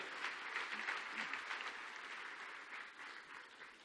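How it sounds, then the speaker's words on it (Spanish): Sustained applause from a church congregation, steady and moderately loud, fading slightly toward the end. "Dale un aplauso a Dios que nos regala la Biblia."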